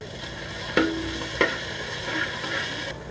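Onion with ginger garlic paste sautés in oil for banana stem soup. A soft sizzle runs underneath, and two sharp clinks of a spoon against the pan stand out close by. There is no talk.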